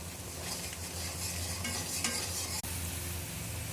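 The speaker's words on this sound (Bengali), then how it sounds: "মশলাগুলো ভালোভাবে কষানো হচ্ছে যাতে কাঁচা গন্ধ না থাকে।" Spices with ginger, garlic and turmeric sautéing in a pan for a fish curry, a dense close sizzle with continuous stirring scrapes and a brief clatter.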